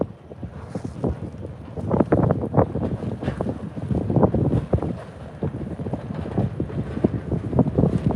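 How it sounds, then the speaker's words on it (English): A low, muffled rumbling and grinding with irregular cracks and thuds, carried on heavy wind noise, as the hull of the ship Federal Kushiro breaks through ice arriving at Duluth, Minnesota harbor. "Let's see if we can catch some of that ice being broken apart there."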